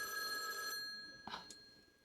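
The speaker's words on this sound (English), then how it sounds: "Somebody calling our phone right quick." A telephone rings in a hair salon, a steady electronic tone that cuts off partway through, followed by a couple of faint clicks as it is picked up.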